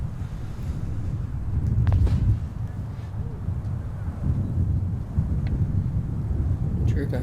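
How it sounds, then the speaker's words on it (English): Strong wind rips across an open disc golf course during a tournament final round, a steady loud low roar buffeting the microphone and swelling in gusts, with faint talk underneath. "make sure you play the wind right when you can hear it ripping like that"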